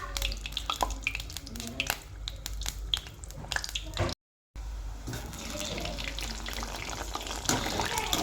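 Small dollops of moong dal pakoda batter with coriander, cumin and salt bubble and sizzle in hot oil, a crackling hiss with sharp pops that breaks off briefly midway and resumes fuller.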